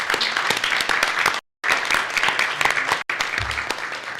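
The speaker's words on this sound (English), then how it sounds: "Round of applause, please." Applause from staff and attendees at a county commission meeting, a dense, steady clapping that fills the room, cut by two brief silent gaps before carrying on.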